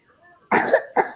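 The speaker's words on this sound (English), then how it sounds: "Quit coughing." A person coughs in two harsh bursts, a longer hacking cough followed by a shorter one, close and fairly loud, during a casual podcast-style conversation.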